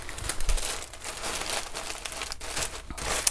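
Tissue paper crinkles and rustles close by as a sequin formal dress is folded inside it for shipping, a steady papery crumpling with small crisp bursts.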